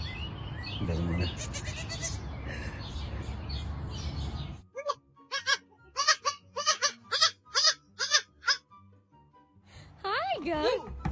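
A newborn baby goat gives a run of high, wavering bleats in quick succession, close and fairly loud, after a stretch of noisy handling and rustling; one longer quavering cry comes near the end.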